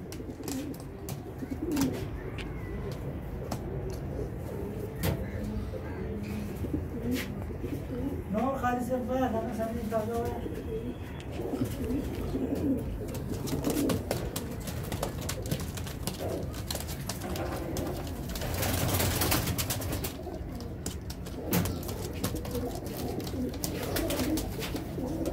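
Pigeons coo softly in the background, low rolling calls repeating now and then, while someone talks throughout and other birds chirp faintly.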